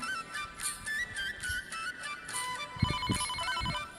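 A phone ringtone with a repeating electronic melody plays over a busy background, steady and moderately loud.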